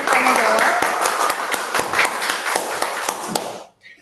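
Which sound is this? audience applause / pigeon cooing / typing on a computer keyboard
audience applause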